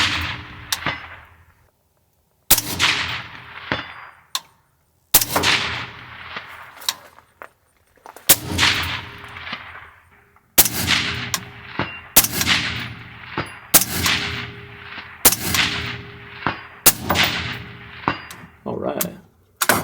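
A suppressed, modernized .45-70 lever-action rifle fires about nine shots at a distant target, each a sharp crack followed by a ringing decay, spaced a second or two apart with a cluster of quicker shots toward the end.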